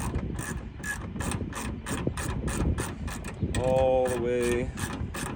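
Extension bracket of an Estes AWS underseat weapon storage locker being bolted down in a Ford, a ratchet clicking in quick steady bursts up close, then a brief whining tool run, with a few words spoken.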